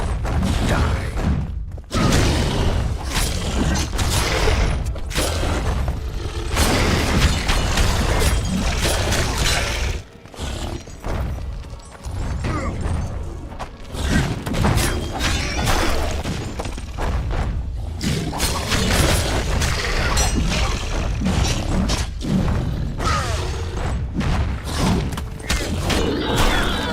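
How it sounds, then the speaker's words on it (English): A dense, continuous battle din from The Witcher 2 video game, with heavy thuds, booms and crashing impacts layered over a constant loud roar and no pauses. "Death explosion got me."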